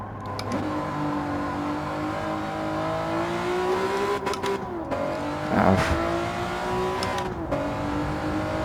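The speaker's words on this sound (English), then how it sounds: "There was one extra downshift there that wasn't necessary." Honda NSX-R engine in Gran Turismo 7 holding a steady high-revving drone, then blipping through quick downshifts with sharp rev flares around the middle and near the end, loud and close with no talking.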